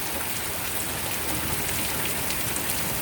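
Steady rain falls in a yard, a dense, even hiss of drops on surfaces that holds at a constant loudness with no voices.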